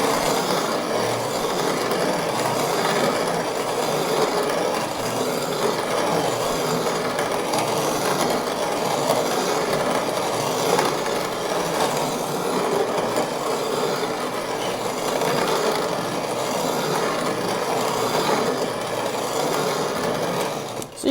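Hand-operated mill grinding parched corn, a steady continuous grinding rub with a rhythmic churning texture, close and fairly loud throughout with no talking.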